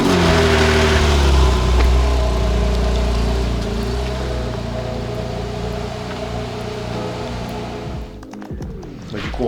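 A GTS supercar engine rumbles loudly and steadily as the car is driven inside a dealer's premises, holding a deep low drone before cutting off near the end.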